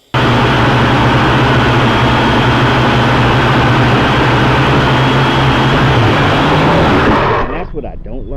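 A Cheerson CX-33 quadcopter drone drones with a steady, loud motor whine that holds level, then dips in pitch and cuts off abruptly as it lands, leaving a brief rattle.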